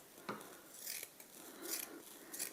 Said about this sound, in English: if you cut through it like that, you'll then end up with long strips of wadding done quite quickly